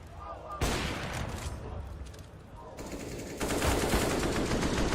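Rapid bursts of automatic gunfire and single shots from a Counter-Strike match at a BLAST.tv Major quarterfinal, dense and loud, with a sharper surge of firing near the end and faint voices underneath.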